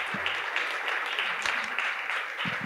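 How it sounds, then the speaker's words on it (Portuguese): An audience at a political speech gives Ciro Gomes a steady round of applause, a dense, sustained clatter of many hands at an even level throughout. "uma salva de palmas a esse nosso amigo"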